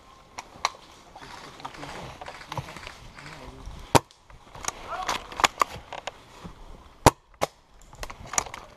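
Airsoft guns fire during a Christmas game: scattered sharp snapping shots, some near and loud, others distant, come in irregular bursts as voices call out in the background.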